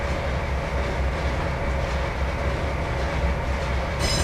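A train runs steadily in the Trainz 2022 railway simulator game, a continuous loud rumble of wheels and rolling stock with faint rhythmic clatter, no talk.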